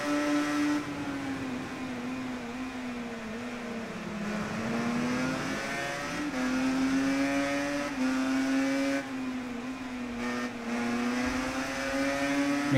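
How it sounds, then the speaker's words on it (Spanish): Racing motorcycle engines in the Ride 3 game rev loudly and continuously, pitch climbing repeatedly as the bikes accelerate out of corners, with brief dips between gear changes. "Me encanta cuando le das gas a la moto saliendo de las curvas y ves que les alcanzas."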